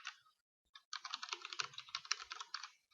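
A computer keyboard clacks as a formula is typed into an Excel cell: a quick, close, even run of light key taps with a short pause near the start, with no talk.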